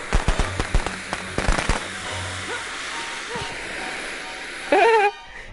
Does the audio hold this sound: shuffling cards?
no